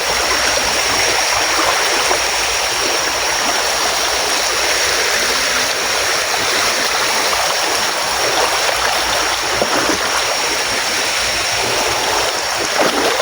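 Steady, loud rushing of a river stream flowing along its bank, continuous broadband water noise with no pauses and no voices.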